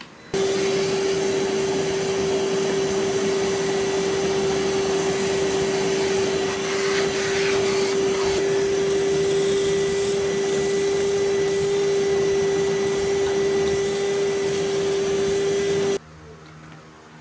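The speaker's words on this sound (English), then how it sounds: "I'm fixing to vacuum that up" A vacuum cleaner runs nearby with a loud, steady whine and rushing air, holding constant for about fifteen seconds before cutting off abruptly.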